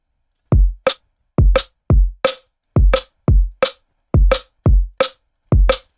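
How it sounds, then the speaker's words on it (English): A punchy synthetic drum-and-bass drum pattern repeats steadily, a deep kick thump followed by a sharp clicky synthesized rimshot with a short room and tight decay, no voices. "It's almost like a Rimshot, but it's like a pretty unique one."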